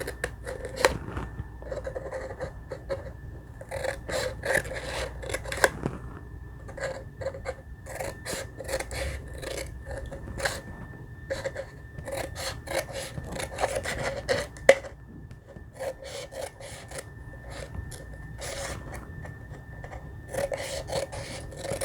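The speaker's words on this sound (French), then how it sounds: "Tu coupes pour avoir les feuilles qui sont au-dessus de l'ananas" Repeated short snips and rasps of scissors cutting paper leaves for a pineapple craft, close and irregular bursts of cutting separated by brief pauses, with no talking.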